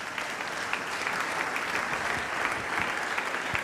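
A church congregation applauds in a dense, steady burst of clapping that holds evenly from start to finish, with no clear voices above it.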